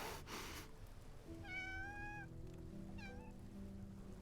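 Two distinct meows from a cat in the video game Love and Deepspace, the first long and drawn out, the second shorter, clear over a steady low hum of background music.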